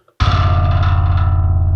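A DjinnBass2 library bass note played with grit and distortion, starting abruptly after a brief silence and sustaining as a thick, buzzy, overdriven tone that slowly fades in its upper edge.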